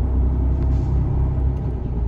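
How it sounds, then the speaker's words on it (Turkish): A garbage truck in Italy rumbles close by, a loud, steady low engine drone with brief hissing bursts like air brakes, alone without talk. "Bunların çöp arabaları bunlar."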